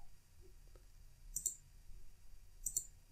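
A computer mouse clicks while a rendered CAD image is saved, giving two quick double clicks about a second apart, light and close, with no talking.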